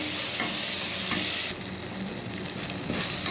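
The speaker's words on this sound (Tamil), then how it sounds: "போட்டு நல்லா வதக்கி விட்டுக்கலாம் ஒரு ரெண்டு நிமிஷம் வதங்கினா போதும் அடியில் பிடிச்சிடாம வதங்கிடுங்க" Ginger garlic paste sautéing in a pan for a mutton bone curry, giving a steady loud sizzle with stirring scrapes and a brighter burst of frying noise partway through; no talking.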